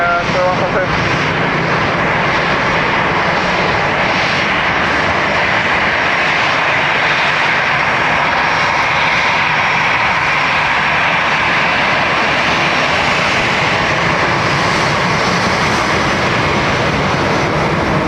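A Ryanair jet lands at Dublin Airport with a loud, continuous engine roar throughout. A radio voice talks over it.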